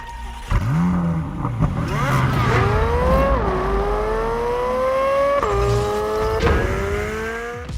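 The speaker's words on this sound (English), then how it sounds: "let listeners hear Chevrolet's tease of that engine screaming around a track" A Chevrolet race car engine screams loudly around a track, its pitch climbing through gear shifts with sharp drops between them, continuous and close for several seconds.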